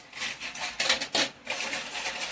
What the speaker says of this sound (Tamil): நெக்ஸ்ட்டு தேவையான அளவுக்கு ஐஸ் கியூப் சேர்த்துக்கலாம்.